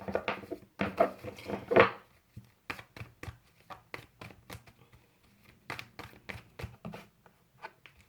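Tarot cards shuffled by hand for an Aries reading, a run of quick papery riffles and soft taps in uneven bursts, close and fairly quiet with no talking.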